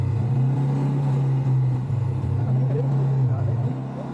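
An ATV engine running under throttle makes a loud, steady low rumble close by, rising and easing slightly, with a voice talking over it.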